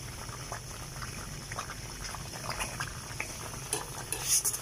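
Semolina (suji) halwa bubbling and sizzling steadily in a pan, a dense continuous crackle with occasional sharper pops and a faint clink of a utensil near the end.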